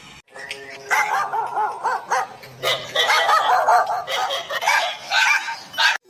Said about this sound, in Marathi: अजी त्या कुत्र्याले पहा नाजी